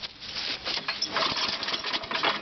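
A small engine, likely on a snowblower, cold starts on the first pull with choke on and full throttle, then runs in a steady, close, buzzing drone throughout.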